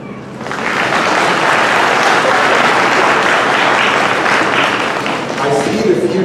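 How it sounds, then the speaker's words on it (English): Parents in the audience at a school graduation break into applause, a loud, dense wash of many hands clapping that swells quickly and holds steady, with faint voices mixed in. "So give yourselves a round of applause, parents"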